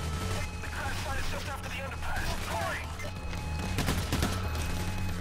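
Bursts of gunfire crackle in the heist video game Payday: The Heist, several sharp shots clustered toward the end over steady background noise, with people talking.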